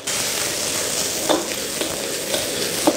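Sliced pork heart hisses loudly in very hot rapeseed oil with chicken fat as it is stir-fried Sichuan style, a dense continuous sizzle punctuated by a few light scrapes and clinks of the wok spatula.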